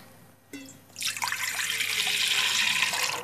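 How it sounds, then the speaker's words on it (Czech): Milk poured into a large cooking pot, a steady rushing splash that starts after a brief clink and carries on loud and close to the end. "budu potřebovat větší hrnec, kam si naliju mléko"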